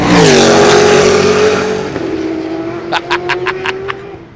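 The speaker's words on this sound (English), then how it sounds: "I am literally probably like, 10 feet away from these cars passing by." Group C and IMSA GTP sports-prototype race cars scream past at speed on a circuit from very close range, one loud engine note falling in pitch as it passes, then a rapid series of sharp gear-change bursts as another car goes by.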